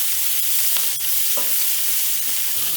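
Shrimp sizzle steadily in a frying pan as they are flipped, a continuous bright hiss with a few soft clicks and scrapes of utensils against the pan.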